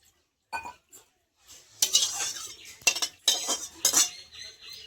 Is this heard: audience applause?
no